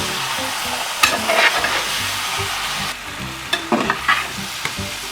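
A spoon scrapes and stirs chicken curry in a hot pan, repeated strokes over a steady sizzle of frying.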